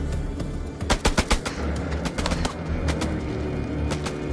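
Gunfire in the video game House of Ashes: rapid bursts of close, loud shots around the one-second mark, followed by scattered single cracks over a steady low rumble, with no talking.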